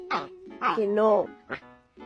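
A dog gives a few close, high yips and barks mixed with a whimpering whine, in short uneven bursts with brief gaps.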